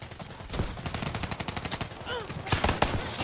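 Rapid automatic gunfire in the video game Black Ops 3, a dense run of loud cracking bursts that peaks near the end with a few heavier shots.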